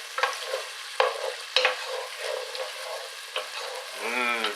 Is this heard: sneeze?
no